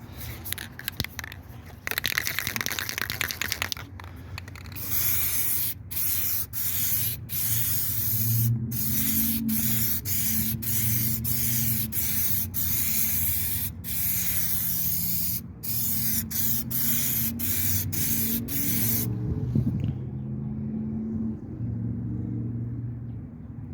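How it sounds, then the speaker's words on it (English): Clear coat sprayed from an aerosol can onto a repaired wheel of a 2022 Mustang, a loud continuous hiss in long bursts broken by short gaps, with faint low rumble behind it. "a couple of coats of clear coat, we're going to be looking good"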